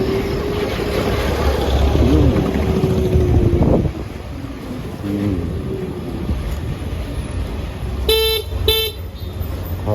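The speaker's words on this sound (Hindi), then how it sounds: "हॉर्न सुनाई दिया।" Car horn honks in traffic while driving through Madhya Pradesh, two short bright blasts near the end over steady road and wind rumble inside a moving vehicle.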